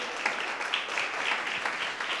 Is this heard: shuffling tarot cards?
no